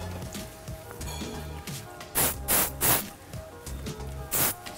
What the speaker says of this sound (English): Smooth with the hairspray.